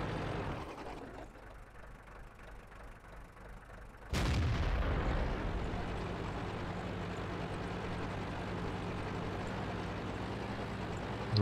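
A single heavy tank cannon shot in the World of Tanks video game, a sudden loud boom that cuts through a low idling engine rumble and leaves a sustained engine drone afterward, with no speech.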